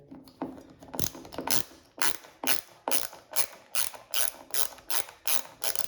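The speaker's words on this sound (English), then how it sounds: "Screw that in with the screwdriver." A screwdriver driving a screw into a loose door hinge, a close rhythmic ratcheting click repeating in steady bursts about twice a second.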